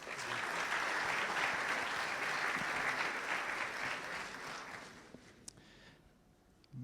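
Sustained applause from a conference audience at a university sports science lecture, dense and even for about five seconds, then fading out into a quiet room with a few stray claps.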